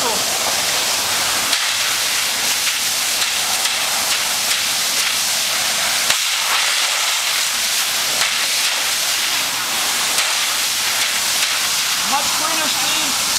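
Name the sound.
fire hose nozzle spraying a water stream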